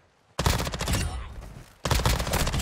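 Two rapid bursts of BAS-P submachine gun fire in a video game, loud and close, each a dense rattling stream with a short gap between them.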